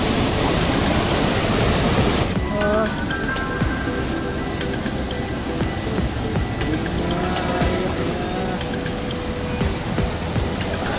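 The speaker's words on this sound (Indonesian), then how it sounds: "Ada sungai yang airnya begitu segar" A fresh mountain river on the Latimojong trail near Pos 2 in Sulawesi, rushing with a loud, steady broadband roar throughout, with faint chirping birds in the background.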